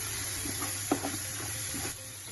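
Coriander powder frying in a pan is stirred with a spoon, giving soft scraping strokes over a faint steady sizzle, with one sharper clink near the middle, quiet and close.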